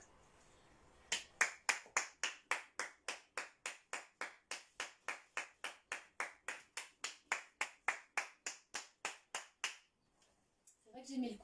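Rhythmic clapping from people on distant balconies applauding health workers at 8 p.m., about two claps per second, steady and fairly faint, with a brief voice near the end.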